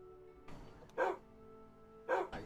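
Two separate dog barks, roughly a second apart, over a steady low background hum; no one speaks.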